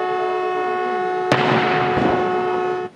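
A ceremonial cannon salute booms once over a long, steady siren tone at an Indonesian Independence Day proclamation ceremony. The blast is loud and near, then fades into a broad rumble while the siren keeps sounding without a break.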